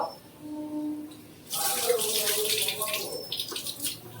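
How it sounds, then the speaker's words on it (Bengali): Lentils (dal) being washed in water in a home kitchen: quiet at first, then a sudden steady rush of running, splashing water that carries on to the end. "ভালো করে ডালটা ধুয়ে নিচ্ছি।"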